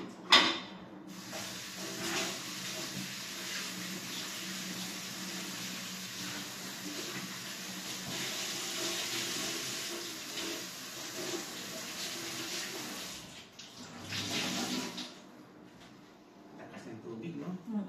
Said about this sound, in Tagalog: Malakas ang tubig. Sobra naman lakas.